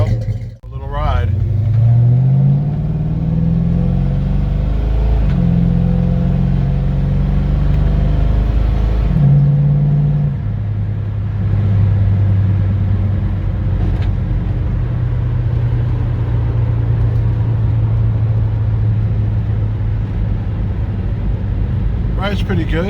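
A 1971 Ford Torino GT being driven: a loud, close engine drone that rises through the gears with steady cruising rumble and road noise, while a person talks over it.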